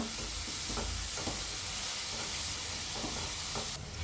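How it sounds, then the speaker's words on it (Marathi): A spoon stirs and sautés a fenugreek-leaf (methi bhaji) chutney mixture in a pan, giving a steady sizzle with soft scraping strokes repeating at an even pace, close and moderately loud, with no voices. "हे असं सगळं एकत्र मिक्स करून घ्यायचं आणि छान असं परतायचं चमच्याने"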